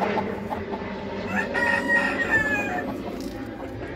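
A fighting rooster crows close by in a farmyard shed, one drawn-out call over a busy background of other chickens clucking, fairly loud with no talking.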